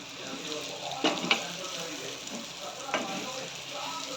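Food sizzles and crackles in oil spread around a griddle (tawa) while zunka bhakar is being made. A steady low hiss runs throughout, with a few sharper pops and clinks near the start and one more toward the end.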